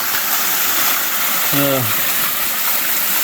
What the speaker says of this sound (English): get a little video and picture the beautiful waterfall